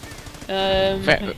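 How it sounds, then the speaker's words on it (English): A machine gun bunker fires in the World War II strategy game Company of Heroes, giving a sustained burst of rapid gunfire with a harsh metallic ring, over low rumbling game ambience. "I got pushed back by this machine gun bunker"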